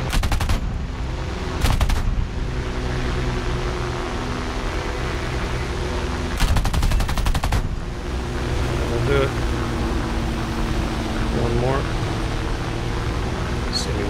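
Aircraft machine guns rattle in War Thunder, playing the Ro.44 floatplane, three short rapid bursts over a steady engine drone, with faint game sounds later.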